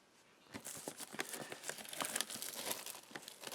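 A knife slicing and tearing the plastic wrap on a Magic: The Gathering Eternal Masters booster box, giving close crinkling and ripping that grows busier after a quiet start.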